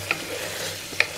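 Ground coriander masala frying in a pan, a soft steady sizzle with two sharp clinks of a spoon against the pan, near and alone with no talk.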